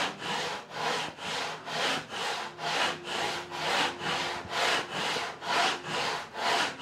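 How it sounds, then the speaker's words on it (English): Crosscut-toothed hand saw cutting through wood during a door restoration, steady rhythmic back-and-forth strokes about two per second, close and fairly loud, with no talking. "I could try with this saw, finishing it with this saw, because this will go much deeper."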